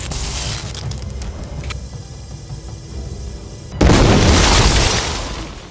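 A sudden, loud explosive boom erupts partway through after a stretch of low rumbling, followed by a sustained roaring blast that slowly fades.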